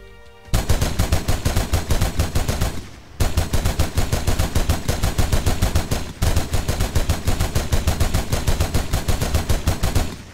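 A mounted machine gun in an Unreal Engine 4 game fires long, loud, rapid bursts of evenly spaced shots, with three brief pauses between bursts.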